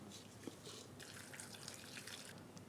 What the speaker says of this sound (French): Je vais maintenant filtrer le bouillon.